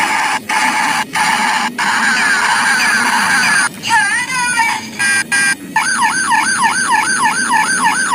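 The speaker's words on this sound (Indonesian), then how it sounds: "Ini ada mobil polisi patrol." A toy police patrol car siren blares loud and close, first as a honking tone with short gaps and then as a rapid warbling wail, with a faint voice underneath.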